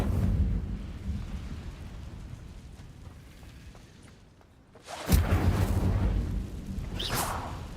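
The Incendio fire spell being cast in Hogwarts Legacy, a magical whooshing burst that erupts loudly after a quieter rumbling stretch, followed by a second sharp swish.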